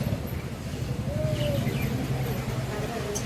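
Caged lovebirds and finches in a pet shop give faint, scattered chirps and short cooing calls over a steady low background hum.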